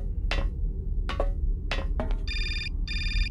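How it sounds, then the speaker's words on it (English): A telephone rings twice in the Syberia adventure game: two steady electronic ring bursts near the end, preceded by a few short in-game sounds over a constant low background hum. "Oh, and another phone call."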